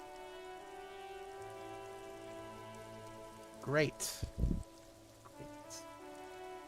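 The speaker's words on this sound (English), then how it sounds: "All around you, rain falls on the great city of Revachol." Steady rain falls over a city in a video game, a soft continuous patter with a few brief louder bursts, and a voice speaks over it.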